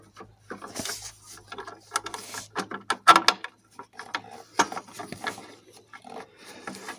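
Ratcheting and clicking of a wrench tightening 10mm manifold screws on an Alfa Romeo 1.9 Mjet diesel engine, in short irregular bursts of metallic clicks and knocks, close up but fairly quiet.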